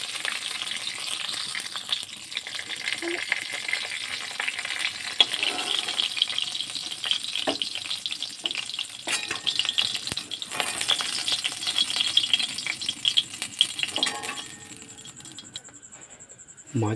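Mrigal fish pieces sizzle steadily in hot oil in a pan on a gas flame at medium heat, a continuous close crackling hiss with occasional clinks, fading near the end.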